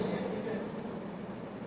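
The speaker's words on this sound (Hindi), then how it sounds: "कूलर चालू है, ऑडिबल हो बिल्कुल" A room air cooler runs with a faint, steady, fan-like whoosh and low hum, continuous and unchanging, with no speech over it.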